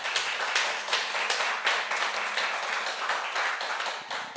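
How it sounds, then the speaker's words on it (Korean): An audience at a church Bible lecture gives a sustained round of applause to thank the elder who lectured, a dense, steady wash of many hands clapping with no voices over it. "오늘 너무 성령 충만한 이런 강의해 주신 우리 한인봉 장로님께 다시 한번 감사의 박수"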